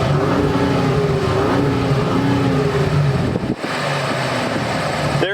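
Engine of a 2020 Ford Raptor pickup with an EcoBoost V6, idling and rising in steady revs up to its limiter beside a car wash, with whirring vents and air dryers droning loudly under it.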